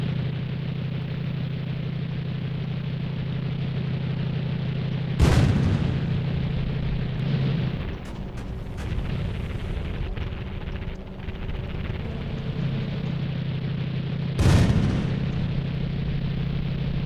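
Two heavy cannon blasts from a tank in the game Sprocket during a frontal armor test, loud booms roughly nine seconds apart over a steady low engine drone.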